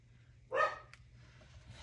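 A single short bark from a house dog comes from nearby, moderately loud, and stands alone over a quiet room background.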